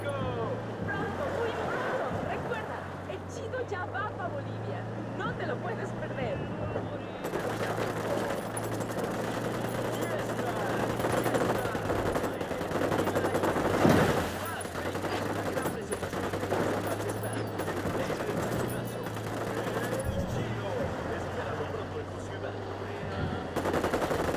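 Rapid automatic gunfire in the Ghost Recon Wildlands video game, steady bursts rattling on for the whole stretch under a low engine drone, with voices talking over it.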